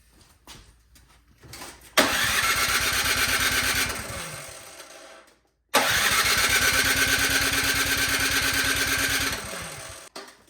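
After a carburetor cleaning, a snowblower engine with bad gas is started twice: each attempt bursts into a loud, close, chugging run for a few seconds, then sputters and dies.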